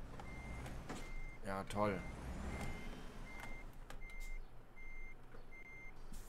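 Truck reversing beeps in Euro Truck Simulator 2: a steady series of evenly spaced electronic beeps from a backing truck over engine rumble, with a brief hiss in between and someone talking.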